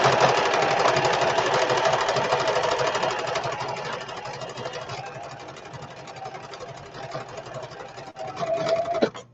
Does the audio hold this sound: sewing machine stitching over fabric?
yes